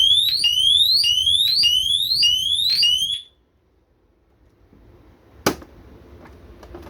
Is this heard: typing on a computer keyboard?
no